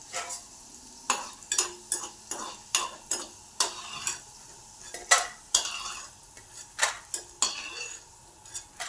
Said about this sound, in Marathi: हिंग असा तळून घ्यायचं आपल्याला